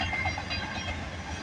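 On a rainy day a CN intermodal freight train led by locomotive 3077 rolls past at Bronte Street in Milton, Ontario, making a loud, steady rumble with continuous wheel clatter close by and no voices.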